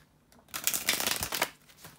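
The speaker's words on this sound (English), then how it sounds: "bear with me a second, guys, to shuffle the cards" A new, glossy-finish tarot deck being shuffled by hand: a close, rapid riffling and flapping of cards that swells for about a second, then eases off, with no talking.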